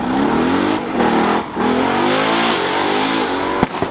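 Engine of a 1969 Ford F250 Crew Cab truck revving hard and bouncing off the fuel cut, a steady loud high drone with rising harmonics, a brief dip midway and a sharp click near the end.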